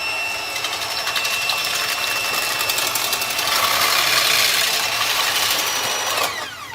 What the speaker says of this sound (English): now I'm going to whisk the batter very gently